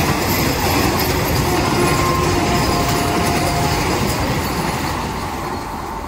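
Train at Kudal railway station, a steady loud rumble of rolling carriages with faint wheel squeal, continuous and close throughout, easing slightly at the end.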